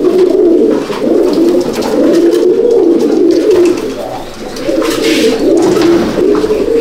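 A fancy pigeon in a loft coos continuously in a loud, close, throaty rolling warble that dips briefly twice, with no talk.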